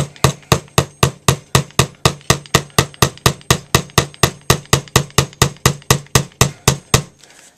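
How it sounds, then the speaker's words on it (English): A hammer taps small nails into the top edge of a wooden-framed canvas: a steady run of about twenty-five light, evenly spaced, sharp knocks, close and clear, with no talking. "and hammer them into the top here."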